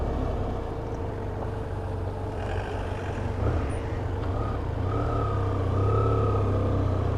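A used BMW F800ST motorcycle being ridden, its engine a steady low drone with rising pitch under acceleration, heard close against continuous wind and road noise.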